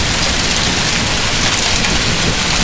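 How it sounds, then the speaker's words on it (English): A dense, steady roar of hail pelting down, loud and continuous without a break. "I don't know if you can see it or not, but we're getting hail."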